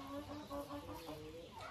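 Young hens, five and six months old, clucking in a coop: a brief, faint run of soft, tonal clucks and murmurs close by.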